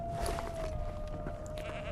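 A sheep in the video game Divinity Original Sin II gives a short bleat over a steady, dense background ambience, fairly close and clear.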